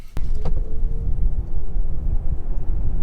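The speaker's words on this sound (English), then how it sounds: "Does make a very funky noise, this car." Electric car driving along while towing, giving a steady low rumble of road and motor noise close in the cabin, with a thin whine running through it and a brief click near the start.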